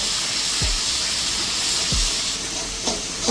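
Water splashed into hot oil and masala for a rui fish jhal sets off a loud, sustained hiss and sizzle, with a few dull knocks of the pan and spoon.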